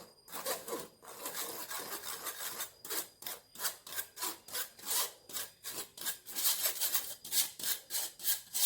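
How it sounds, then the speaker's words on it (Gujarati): Flour and baking soda being sifted through a sieve for brownie batter: close, rhythmic scratchy rasping strokes repeating steadily, with no talking. "હવે બધું જ ચાળણીથી ચાળી લઈશું."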